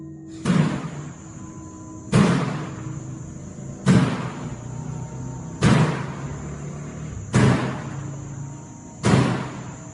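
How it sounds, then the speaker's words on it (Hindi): A door bangs shut by itself about six times at a steady interval of roughly two seconds, each a loud sharp thud that rings out briefly over a constant background hum. "ये दरवाजा अपने आप ही खुल रहा है और बंद हो रहा है, और वो भी इतनी जोर से"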